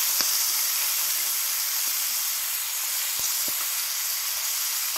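Paella cooks slowly in a pan over a wood fire, giving a steady, even sizzle and hiss with a few faint crackles and no voices.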